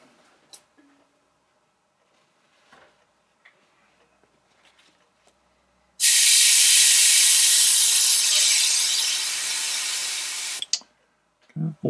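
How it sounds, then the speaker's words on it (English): An Iwata HP-CS Eclipse airbrush test-sprays enamel paint at about 24 psi, a sudden loud, steady hiss of air and spray lasting roughly five seconds after a few quiet clicks and handling noises, then cutting off. "let's do a test spray"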